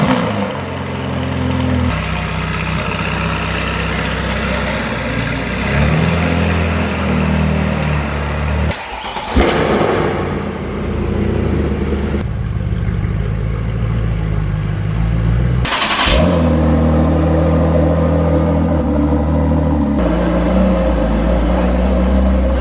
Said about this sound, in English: now we get to hear the Black Series with the aftermarket exhaust in tune